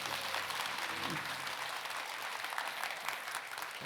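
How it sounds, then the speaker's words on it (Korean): Applause from an audience at a Buddhist intangible-heritage dharma talk, welcoming a senior monk, as a sustained, fairly even wash of many hands clapping. "여러분 큰 박수 부탁드리겠습니다"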